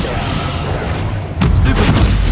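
A Confringo spell in Hogwarts Legacy goes off with a sudden loud boom and burst midway, over ongoing game noise.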